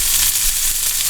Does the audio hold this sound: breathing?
no